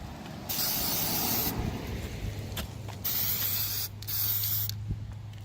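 Bursts of DEI high-temp spray paint hiss from an aerosol can onto a boot, in three long sprays separated by short pauses, loud and close with a low hum underneath.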